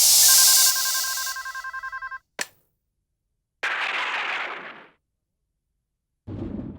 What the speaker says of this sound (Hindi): मुझे प्रमोद का फोन आया।